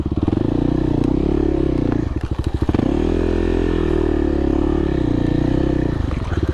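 A dirt bike on an off-road OHV trail loop at Town Creek, its engine running loud and close the whole time, with a throttle dip and rise around the middle and a steady drone otherwise.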